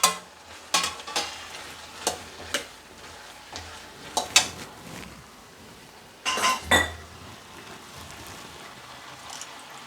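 Carrot and potato pieces sautéing in a pan, a steady soft sizzle broken by sharp clinks and scrapes of a spoon stirring against the metal.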